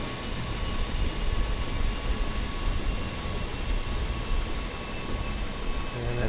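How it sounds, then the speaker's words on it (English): Aircraft engines spool down after arrival at Eagle County airport in Microsoft Flight Simulator, a loud, steady broadband roar with a faint high whine running throughout. "And that is slowing down and shutting off."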